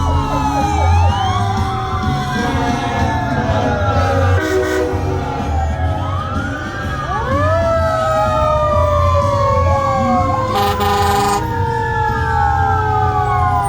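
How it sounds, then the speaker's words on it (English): A Beaumont fire engine's siren wails and sweeps up and down continuously at a Christmas parade, loud and near, mixed with horn toots and heavy engine rumble. "That's the fire engine."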